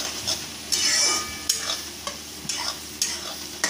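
Whole masoor lentils frying with onion are stirred in a pan: soft continuous sizzling broken by regular scraping strokes of the spoon, close and fairly loud, with no talk.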